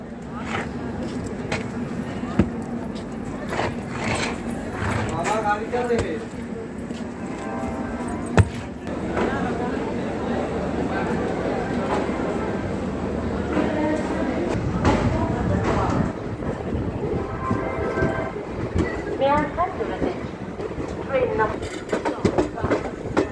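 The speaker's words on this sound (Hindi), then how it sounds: "तो चलिए देखते हैं डिपार्चर लखनऊ जंक्शन से हमारी सहरसा फेस्टिवल स्पेशल का" A festival special passenger train pulls out of Lucknow Junction, with steady clickety-clack of wheels over rail joints and rumbling carriages heard from on board, continuous and fairly loud, with occasional clunks.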